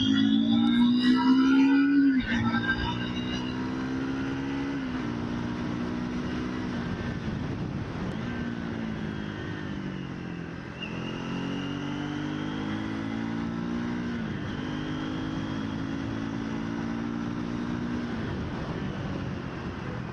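A Triumph Scrambler 400X motorcycle engine drones steadily while riding, with rising and falling pitch as it accelerates and shifts through gears, loud and continuous throughout without talk.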